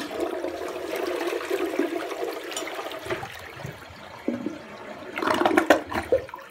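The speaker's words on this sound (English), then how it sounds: "So let me give it one more flush." A newly installed toilet, a Briggs Conserver or Universal Rundle Athens model, flushes with a rushing gurgle of water that fades, then a louder surge and swirl near the end, heard close up with no talking.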